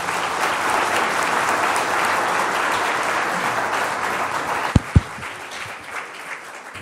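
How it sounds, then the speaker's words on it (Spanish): An audience at a talk on maize gives sustained applause, a dense steady clapping that holds for several seconds, with a couple of sharp louder claps near the end before it thins out. "despedirlo con un aplauso"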